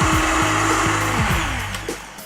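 A Vitamix blender whirs loudly and continuously up close while blending warm nut milk, its motor tone wavering slightly over a couple of seconds.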